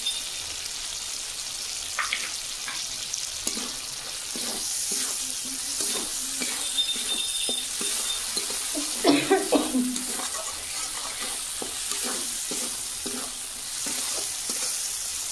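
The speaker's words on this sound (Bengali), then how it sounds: "মশলা কষানো হয়ে গেছে" Garam masala and other spices sauté in a pan for a vegetarian taro curry: a constant close sizzle broken by repeated scraping stir strokes that grow busier midway.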